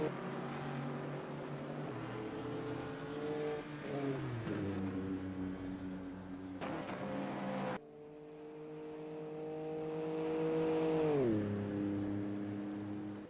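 GT3 race cars, including a BMW, running in a sim race at Road America, engines droning loudly and steadily with rising and falling pitch through gear changes, several cars audible together.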